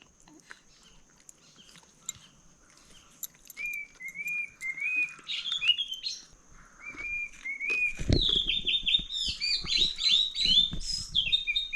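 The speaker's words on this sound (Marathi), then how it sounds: "काहीतरी बोलतायत पक्षी" Birds chirp in quick repeated bursts of high, thin notes, growing busier and louder toward the end over faint rustling and a dull thud.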